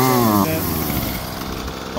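A small 2-stroke engine revs briefly, then sags and bogs down into a rough, uneven sputter when given gas, loud and close for about two seconds.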